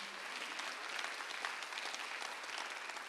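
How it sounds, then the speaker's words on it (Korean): A church congregation bursts into dense, sustained applause, many hands clapping together at moderate distance for a few seconds without any voices on top. "박수 하세요."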